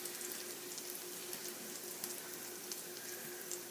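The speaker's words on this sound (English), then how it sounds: "lay them in a nice warm pan with oil in it to give them a nice browning on both sides" Quesadillas folded in half fry in oil in a warm pan, giving a steady, even sizzle with fine crackles throughout, close and moderately quiet with no voices.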